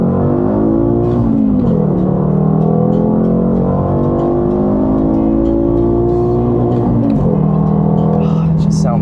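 A VW MK5 Rabbit accelerates hard under a wide-open pull, the engine note climbing steadily through the revs, dropping at a gear change, then climbing again, loud from inside the car.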